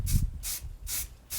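A spray can sprays primer paint in four short hissing bursts, close and evenly spaced, with brief pauses between them.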